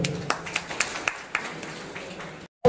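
Scattered hand claps ring out from an audience at an award ceremony, a handful of sharp separate claps over a soft room hum that ends abruptly.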